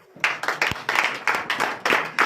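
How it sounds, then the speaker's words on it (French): A church congregation at a Sunday service in Comè, Benin, claps together in acclamation: loud, close, rhythmic bursts of hand claps repeating at a steady pace, with no speech over them. "Donne l'acclamation à Jésus."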